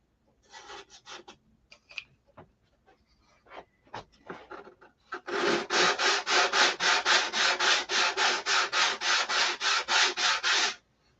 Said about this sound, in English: We'll keep the sanding.